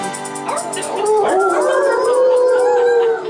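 An old dog howls loudly in long, wavering rising and falling tones, with a voice or singing mixed in underneath at sea.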